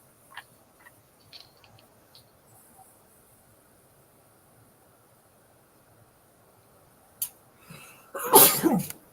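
After a long quiet stretch with faint background noise, a sudden loud sneeze bursts out near the end, close and sharp.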